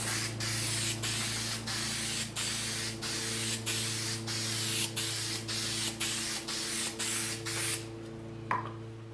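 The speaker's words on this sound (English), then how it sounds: "let me just spray this on here" A steady hiss of aerosol adhesive spray, applied to a car headliner, runs in repeated bursts with brief regular breaks, close and loud, then stops, followed by a small click.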